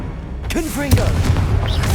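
Confringo fire spell blasting statues in Hogwarts Legacy, a sharp boom with a whooshing magical trail, followed by crackling debris, while a voice calls out over it.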